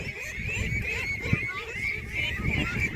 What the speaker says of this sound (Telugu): చాలా బాతులు అండి